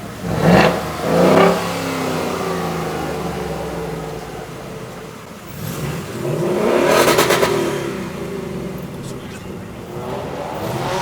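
Ford F150 and Mustang GT engines rev at an outdoor car meet, two short loud bursts near the start followed by a longer swelling rev midway, with steady crowd and traffic noise around them.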